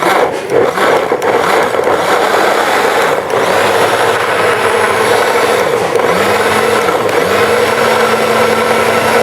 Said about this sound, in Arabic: واضربهم في الخلاط